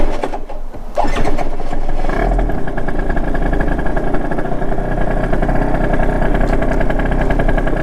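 A Yamaha Aerox R33 scooter with a new aftermarket exhaust pipe accelerates hard, its engine buzz rising into a loud, steady, raspy drone close to the microphone throughout, with no talking.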